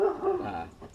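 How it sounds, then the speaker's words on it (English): A dog barking in the background during a 2007 Buick Lucerne tail lamp bulb replacement, one fairly loud, drawn-out bark fading over about a second. "Sorry about the dog bark in the background."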